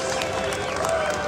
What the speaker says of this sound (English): Another round of applause for our dancers from Tonga with our dancing costumes.